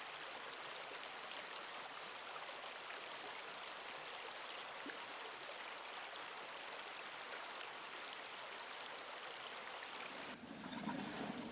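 A putrid stream at the edge of a neighborhood flows with a steady, close rushing wash of water that holds constant throughout, with a slight change in tone near the end.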